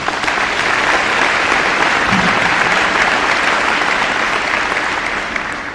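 Loud, sustained applause from a large crowd at a high school grand opening celebration, a dense, even wash of clapping with no voices over it.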